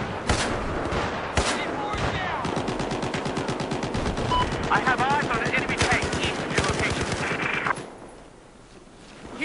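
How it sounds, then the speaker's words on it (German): A weapon in the video game Battlefield 4 fires rapid automatic bursts, loud and close with dense repeated cracks, before the shooting stops near the end. "Ich weiß nicht, was das für eine Waffe ist. Aber anscheinend macht die ordentlich Bumm."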